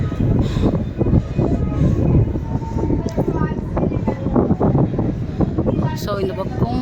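Strong wind blowing at Marina beach roars as a constant loud rumble buffeting the microphone throughout, with a person talking underneath the gusts.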